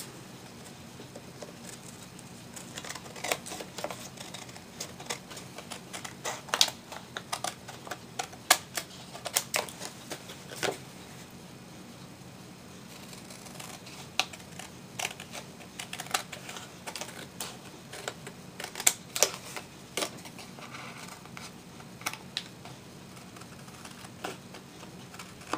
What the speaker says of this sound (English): Now I'm going to turn it over and cut out the excess.